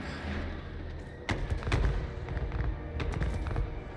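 Hellstorm rocket artillery fires in a Total War battle, with a rapid volley of sharp cracks and thumping booms rolling over a dense rumble of battlefield noise.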